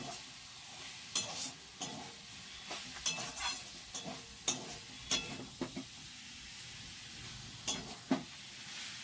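Methi greens get stirred in a pan after raw oil is poured over them, with repeated spatula scrapes and knocks against the pan over a quiet, soft sizzle, and no voices.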